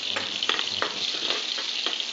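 Whole garlic cloves and halved chillies fry in oil on lowered heat, making a continuous close sizzle broken by brisk, regular stirring strokes.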